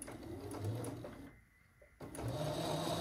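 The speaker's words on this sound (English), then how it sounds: "And then let's sew this one." A sewing machine runs steadily, stitching a quilt block corner to corner, with a brief pause in the middle before the motor picks up again; loud and close, with no talk.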